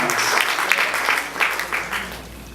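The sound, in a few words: congregation applauding in church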